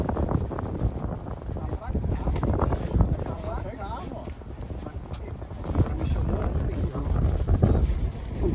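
Strong gusting wind buffets the microphone at an outdoor kite-flying spot, a constant low rumble with surges, while someone talks over it throughout.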